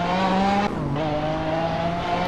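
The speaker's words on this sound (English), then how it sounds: "Off-roading Lamborghini. Perfectly normal." An off-roading Lamborghini in a Hot Wheels racing game, its engine droning at a steady pitch, briefly dropping then climbing again as the car drives on, with a tire squeal and no talking.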